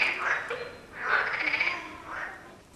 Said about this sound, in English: The frogs are hard to spot, but they break out with such a din that we can't doubt their presence.